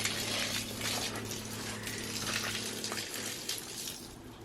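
Water gushes steadily from a garden hose outdoors, a continuous broadband rush with a low hum underneath that cuts out partway through, leaving a rougher splashing flow.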